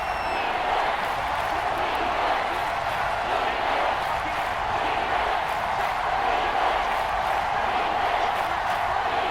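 Dense, steady roar of a stadium crowd in the Madden NFL 22 football game, Eagles against Washington, filling the space evenly with a broad wash of noise and faint rhythmic thumps, while commentators talk.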